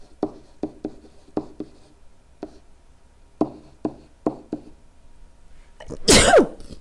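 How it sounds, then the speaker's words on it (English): A single loud, close sneeze at the end of a stretch of rhythmic pen taps and writing strokes on paper during a precalculus lesson. "I've had to sneeze for a while, all through the last video."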